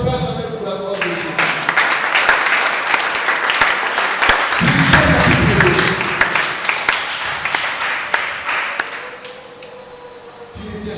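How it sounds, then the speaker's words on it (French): A church congregation at a teaching and prayer service bursts into sustained applause, dense clapping lasting about ten seconds before thinning near the end. "Est-ce qu'on peut acclamer pour la gloire de Jésus?"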